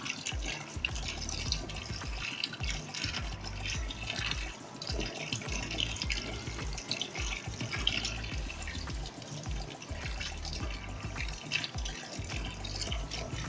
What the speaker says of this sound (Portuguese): Água corrente constante até o material ficar limpo.